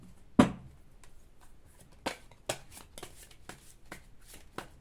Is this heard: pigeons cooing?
no